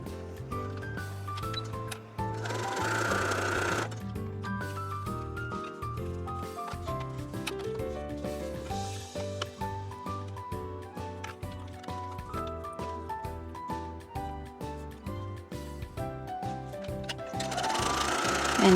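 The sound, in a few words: sewing machine stitching a quarter-inch seam on fabric strips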